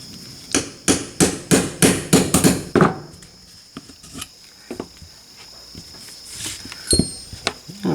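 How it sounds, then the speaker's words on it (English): About eight quick metallic taps from a small hammer driving pins into a 10/22 rifle stock, in a steady rhythm, close by, then scattered quieter knocks and faint background noise. "we have a small hammer because it may be required."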